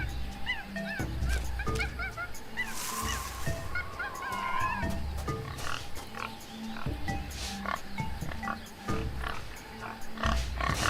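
Pigs grunting amid a noisy video game jungle, layered with bird-like calls and honks over a steady dense ambience with no talk.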